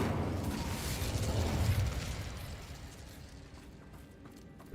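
Incendio fire spell cast in Hogwarts Legacy: a loud, broad whooshing burst of flame that swells for about two seconds, then fades into a softer crackling tail.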